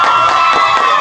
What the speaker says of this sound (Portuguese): Aplausos para Vitor Vidal.